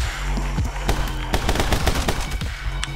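Rapid bursts of video game gunfire crack out in irregular clusters of sharp shots, loud and close, with repeated automatic volleys over a low background hum.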